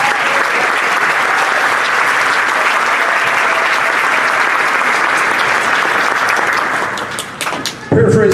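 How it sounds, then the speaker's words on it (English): Loud, steady applause from an audience at a nursing pinning and commencement ceremony, dense clapping sustained for about seven seconds before tapering off into a few thumps and a voice. "Let's give them a round of applause."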